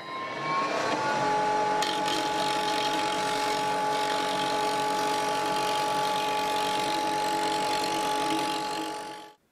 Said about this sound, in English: So next I need to scrape this concentric.